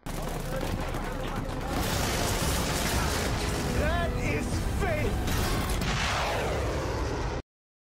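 A combat helicopter in a war film fires on an approaching enemy force, with continuous rattling gunfire and explosions over a dense battle din; a narrator talks over it.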